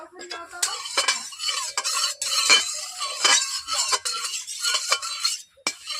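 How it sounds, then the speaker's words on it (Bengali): Oil in a kadai on a wood-fired clay stove is stirred with a metal spoon, giving repeated close scraping and clinking strokes over a soft sizzle, with no talking. "কড়াইয়ের মধ্যে আমি তেল দিয়ে দিচ্ছি।"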